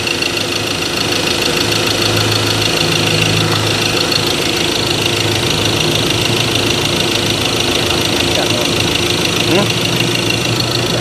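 A car engine idles roughly with a steady, shaky rumble and vibration, running continuously close by while a person talks over it.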